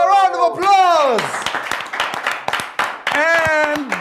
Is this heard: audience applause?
yes